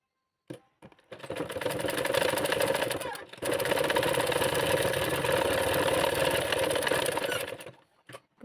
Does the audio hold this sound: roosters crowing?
no